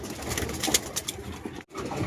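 A pigeon with thread tangled around its foot gives soft, throaty coos close by. Its calls come in short pulses over light background noise, and no one speaks.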